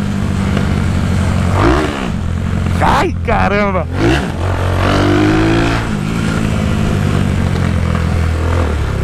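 A Honda Today 125 scooter, left abandoned for a year, revs hard close by, its rough engine climbing and dropping in pitch through several throttle blips while a man exclaims over it.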